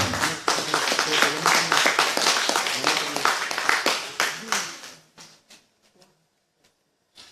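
A church congregation bursts into lively clapping that runs strong for about five seconds, then thins into a few scattered claps and fades to near silence.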